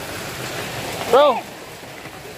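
Heavy rain pours down in a steady, close hiss throughout, with a brief shouted word from a man cutting through midway.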